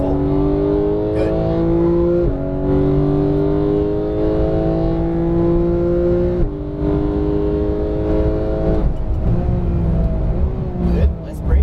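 A Porsche GT3 991 engine pulls hard on a race track, its tone climbing steadily through the gears with brief drops at each shift, loud and close in the cabin, with an instructor talking over it.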